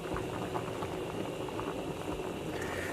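A pot of water with chickpea noodles bubbles at a rolling boil on a stovetop, a continuous close, soft gurgling and popping with no speech.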